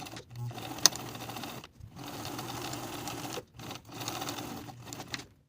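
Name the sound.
sewing machine edge stitching lining to seam allowance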